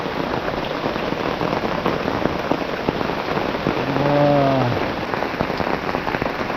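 Steady downpour in a forest during a storm, a constant close hiss of raindrops hitting leaves and ground, with a brief faint tonal call rising and falling midway.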